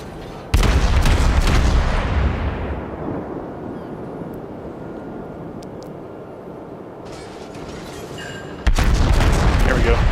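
Heavy cruiser guns boom out in a naval battle in World of Warships, with a loud broadband blast at the start, a long rumbling decay, then another loud salvo near the end.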